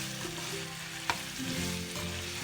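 Chicken stir fry with lemongrass sizzling and frying in a pan while being stirred, with a sharp scrape or clack of the utensil partway through; no talking.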